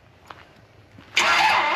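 A 355 engine cranks and fires up for the first time, bursting into a loud, steady running roar after a quiet moment with a few faint knocks.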